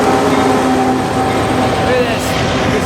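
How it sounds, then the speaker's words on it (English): Trains rumble past up close near an Amtrak station, a loud, steady roar of rolling cars with faint squeals and clatter throughout. "There's no shortage of trains down here by the Amtrak station."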